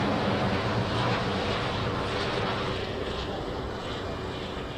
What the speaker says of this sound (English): You waiting for the Delhi flight, and here it is, the Swiss A330